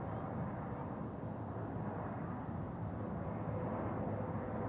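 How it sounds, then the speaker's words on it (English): A Vueling passenger jet arriving from Barcelona comes in to land at Amsterdam Schiphol Airport, a steady distant roar of engines filling the evening air throughout, with faint background voices. "we also have Vueling landing over here"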